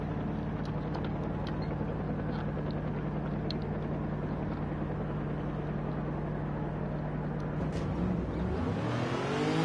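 A HECS KupKar race car engine drones steadily from inside the cabin while driving laps, a constant loud low hum with a rising pitch sweep near the end as it accelerates.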